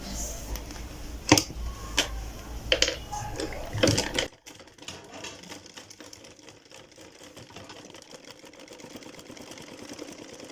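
A sewing machine stitches two salwar cloth pieces together, rattling in bursts with sharp mechanical clatters for about four seconds, then giving way to quieter, uneven handling noise.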